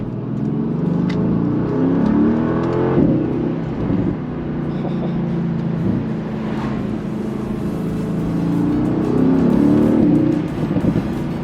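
The 2018 Mercedes-AMG GT's V8 revs hard in Sport Plus mode on country back roads. Its deep, loud engine note rises and falls through throttle changes and downshifts, close and steady from the cabin with no talk.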